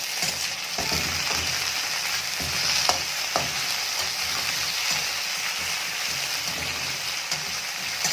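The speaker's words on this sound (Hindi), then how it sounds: "आलू को मैं अभी बीच बीच में इसको भूनूंगी" Potato pieces for Odia aloo bhaja sizzling steadily in hot oil in a pan, a constant loud frying hiss with occasional stirring scrapes, close by.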